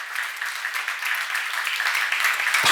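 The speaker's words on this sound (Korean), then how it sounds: "믿으시면 박수하세요" A church congregation at a seminar sermon breaks into sustained applause, a dense crackling of many hands that holds steady and swells slightly toward the end.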